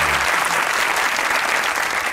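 Dense, steady applause from a studio audience on a Pakistani comedy talk show, loud and close, filling the whole short stretch without a break.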